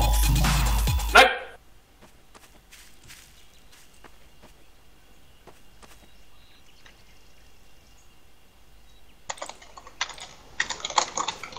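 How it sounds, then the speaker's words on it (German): A computer keyboard is struck in rapid bursts of sharp clicking, loud at first, then scattered quiet taps, then another fast flurry of heavy keystrokes near the end. "Irgendwer prügelt seine Tastatur kaputt?"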